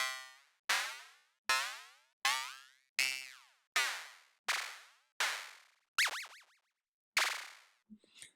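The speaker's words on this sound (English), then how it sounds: "let you hear what a sweep sounds like when we're not working with the harmonic scale" FM synthesizer percussion sweep on random non-harmonic values: a sequence of about ten sharp metallic boing-like hits, each decaying quickly, changing in pitch and brightness from one strike to the next.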